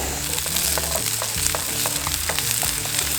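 Onions sizzle in a hot pan over scallion oil at a seaside campsite, a steady crackling fry with occasional sharper pops and stirring sounds, close and continuous.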